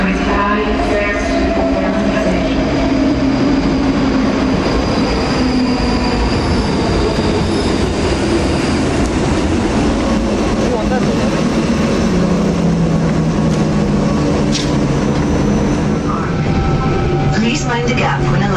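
A train runs along the rails in Scotland, loud and close, with a sustained rumble, rolling wheel noise and occasional squeals, while a voice speaks over it.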